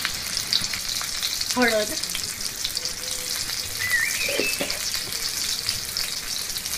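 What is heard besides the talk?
green chili and asafoetida frying in hot oil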